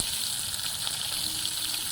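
A fish head fries in hot oil with a steady, loud, hissing sizzle that never lets up, close and alone.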